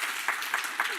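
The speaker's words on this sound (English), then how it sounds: "So I think a round of applause for Alden and Eric" Audience applause at a live Valve event, a steady wash of clapping from a crowd close by, with a few louder bursts rising out of it.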